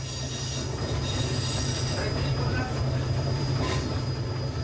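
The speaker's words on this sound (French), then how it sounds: "l'autorail va s'engager sur son domaine" An EAD X 4519 diesel railcar running on the single-track line near Cap-de-Nac, a steady loud engine drone and rail rumble throughout, with faint high wheel squeal above, no voices.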